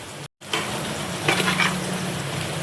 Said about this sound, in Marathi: मस्त असं तेल सुटेपर्यंत छान असं तेलामध्ये फ्राय करून घ्यायचं आहे